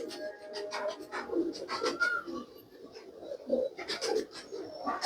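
Breeder pigeons coo close by in soft, repeated throaty calls, several birds overlapping in an irregular rhythm with light rustling between calls.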